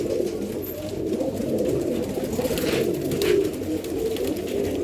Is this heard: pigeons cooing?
yes